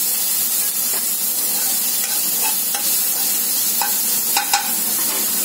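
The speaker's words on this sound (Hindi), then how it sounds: "अब इसके अंदर जो हम अपने टमाटर ऐड कर देंगे" Tomato and green chilies sizzle and fry in oil with sautéed cumin for a cabbage dish, a loud steady hiss broken by a few soft stirring clinks.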